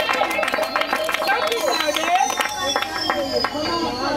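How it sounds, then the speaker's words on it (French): A crowd at a birthday party in Kinshasa breaks into steady, dense clapping that carries through the whole stretch, mixed with cheering voices and chatter. "vos applaudissements, s'il vous plaît"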